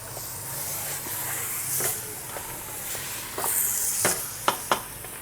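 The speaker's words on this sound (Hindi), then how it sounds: "अब मैं इसको थोड़ी देर भूनूंगी। इसको हिलाएं ताकि ये चिपके ना।" Ginger garlic paste sizzles and hisses in a hot pan for a beef biryani, with a spoon scraping and stirring through it and a few sharp knocks of the utensil near the end.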